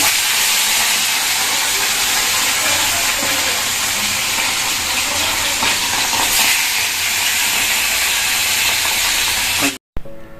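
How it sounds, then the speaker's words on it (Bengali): Fish pieces fry in hot oil on a gas stove in a hotel kitchen, a loud, dense hiss and sizzle that holds steady before cutting off abruptly at the end. "এই দেখো বন্ধুরা মাছগুলো কিন্তু ভাজা কমপ্লিট হয়ে গেছে"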